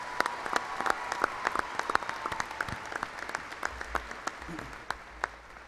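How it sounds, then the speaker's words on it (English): Applause from a large arena audience at a class of 2019 graduation ceremony, a steady, somewhat distant bed of clapping with distinct nearer claps popping out over it. "please join me with one big round of applause"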